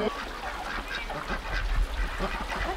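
Ducks call by a stream in a small mountain village, a few rough honking quacks rising over steady running water and outdoor ambience, moderately distant.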